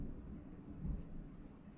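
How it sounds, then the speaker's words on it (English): Low rumbling thunder rolls faintly through a Minecraft world running the Reclamation modpack, a soft, steady grumble without any sharp crack. "My goodness, that thunder is crazy."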